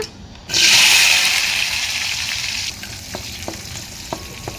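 Onions and mustard seeds hit hot oil outdoors with a sudden loud sizzle that flares up, then settles into a steady crackling fry with a few light pops.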